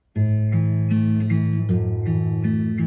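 Guitar notes ring out clearly in a short phrase of plucked, overlapping tones, with several distinct note changes and no talking.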